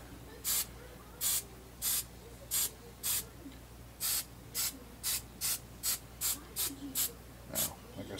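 Hairspray hisses from a can in about fifteen short, evenly spaced bursts onto a model diorama. Each burst is close and crisp, and there is no talk.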